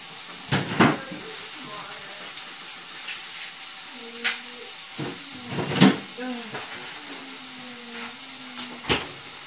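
Shallots sizzle in a pan as a soft, steady hiss, broken by occasional knocks and clatter, while a person talks intermittently nearby.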